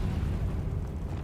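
A fire spell is cast in a Harry Potter video game, a steady low roaring whoosh of flame that fills the whole short moment at even, loud strength.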